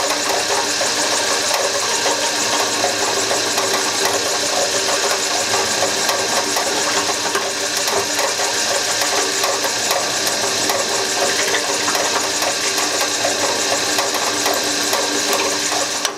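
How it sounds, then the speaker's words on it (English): Metal tubes being drilled through a template, a continuous loud mechanical whirring and grinding that holds steady without a break. "use it as my template to drill every hole in every tube"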